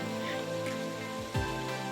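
Steady rain patters continuously on a surface in Mandangad, Konkan, a dense even hiss filling the short stretch with no voices over it.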